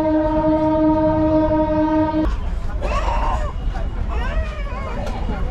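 Local train pulls into Katwa station, a long steady horn blast for about two seconds giving way to rumbling wheels and squealing, screeching brakes, close and loud with station noise around.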